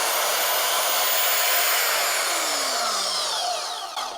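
A WEN portable bandsaw with a metal table runs loud and steady at close range, its high whine holding for a few seconds before the motor begins to slow and wind down near the end.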